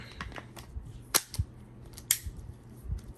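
A Springfield XDM 3.8 pistol being reloaded after cleaning, a few close sharp metallic clicks and snaps of the mechanism with a quiet pause between them.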